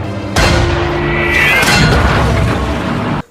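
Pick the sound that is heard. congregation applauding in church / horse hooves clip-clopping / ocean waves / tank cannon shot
tank cannon shot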